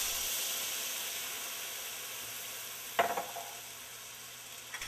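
Butter sizzles in a hot pan as a faint, steady hiss that slowly fades, with a brief clatter of the spoon or pan around the middle and a few soft knocks near the end.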